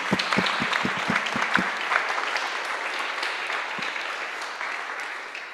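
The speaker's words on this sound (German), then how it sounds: "Erstmal ein Applaus für euch beide." An audience at a publisher's salon event applauds two speakers, opening with a few distinct close claps before settling into steady, moderately loud clapping from a modest crowd that slowly fades.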